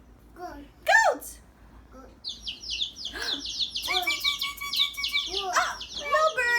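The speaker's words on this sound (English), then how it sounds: "But it's a bird." Short bird chirps and tweets sound in a quiet, indoor-seeming space, starting with a brief call and then turning into a run of repeated, sharper chirping phrases of moderate loudness.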